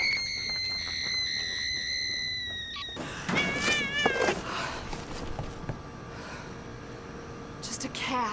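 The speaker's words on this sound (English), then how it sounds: "Just a cat." Domestic cat meowing in a tense horror short, a few wavering, drawn-out meows rising over a busy background after a louder opening stretch, with voices talking around it.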